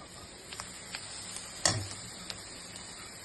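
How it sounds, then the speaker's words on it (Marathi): Bitter gourd (karela) stirred in a pan for karela bhaji gives soft, faint scrapes and a few light clinks over a quiet sizzle, with one sharper knock of the spoon midway. "हे कारले नीट मिक्स करून घ्या"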